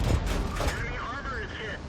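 A T26E4 Super Pershing tank gun firing APCR rounds in World of Tanks, with heavy booming shots and rumbling battle noise over a low engine drone, then a rising whine; a voice talks faintly underneath.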